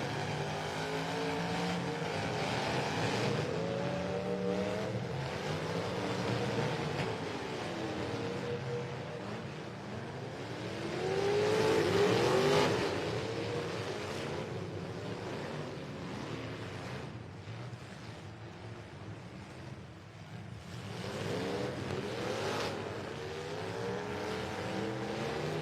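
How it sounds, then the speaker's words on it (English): Race cars battle for position at a motorsport event, engines rising and falling as they pass, one car sweeping loudly by near the middle while others drone in the distance, with no talking. "Still got 7 cars battling out for 3 or 4 spots."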